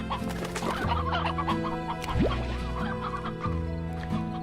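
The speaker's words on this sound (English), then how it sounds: "Chickens." Chickens in the Slime Rancher video game cluck in a scattered series of short calls, layered over looping game music and heard at moderate level.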